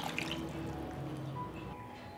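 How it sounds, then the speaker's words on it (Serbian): Tomato paste thinned with water is poured into a bowl of peppers, giving a soft close liquid pour and dribble. "I sipat ću u činiju sa paprikama."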